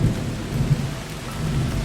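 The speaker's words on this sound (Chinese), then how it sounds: "大雨拼命地下着" Heavy rain pouring down with low rumbling thunder, a dense continuous wash of rainfall under a deep roll, brief and steady with no voices.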